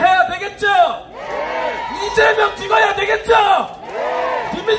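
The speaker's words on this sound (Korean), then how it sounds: "김민석에게 다시 박수 한번 부탁드립니다" A crowd at a street-market campaign rally for a Korean political candidate cheers and whoops in loud surging bursts, with a speaker's amplified voice rising between the waves.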